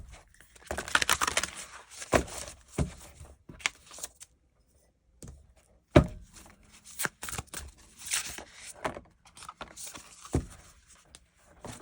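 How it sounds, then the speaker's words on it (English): A deck of tarot cards is shuffled in several close, crisp bursts of riffling and flicking, broken by short quiet gaps. "Let's shuffle one more time."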